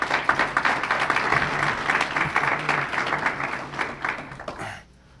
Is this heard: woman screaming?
no